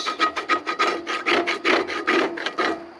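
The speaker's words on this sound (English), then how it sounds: "So with the scraper, I'm just going to start working sticky parts" A hand scraper working sticky residue off a cast iron surface, heard as a close, quick series of rhythmic rasping strokes that repeat steadily throughout with no talking.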